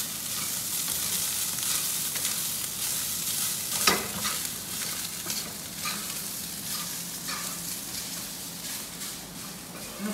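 Garlic fried rice with garlic and salt sizzles steadily in a pan, with a scrape of stirring around the middle and soft scraping and clinks throughout, no voices.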